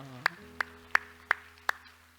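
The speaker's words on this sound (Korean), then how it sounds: "우리 하나님께 영광의 박수합시다." Five sharp, evenly spaced claps ring out in a church sanctuary, each a crisp isolated hit over a low steady hum, with no talk over them.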